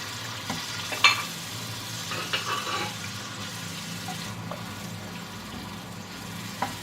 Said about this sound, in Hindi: टमाटर डाल के हम इसे भून लेंगे